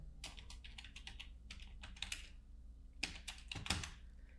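Typewriter-style key strikes from a motion graphic template sound effect, irregular crisp clacks in small clusters with brief gaps, close and fairly faint over a low hum.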